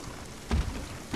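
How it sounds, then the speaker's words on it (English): Drizzly morning rain in the video game Spiritfarer, a soft steady patter with two brief louder bursts, quiet and close. "Oh, dark, drizzly morning."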